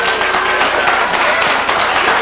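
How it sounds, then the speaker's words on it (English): Audience applause at a speech by Farrakhan, a dense, steady wash of clapping from a sizable crowd that holds at a loud level for the whole stretch, with a voice faintly audible beneath it. "Are you applauding that?"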